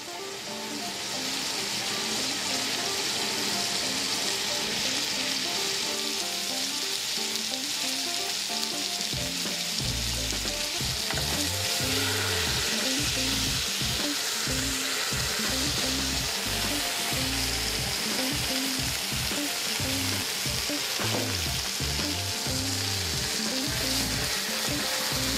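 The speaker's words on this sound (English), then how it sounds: "you have liquid on the outside of the tenderloin, so when it mixes with this hot oil, it's going to splatter a little bit" Kalbi-marinated pork tenderloin sears in hot oil in a pan, giving a loud, steady sizzle with bursts of spattering grease throughout.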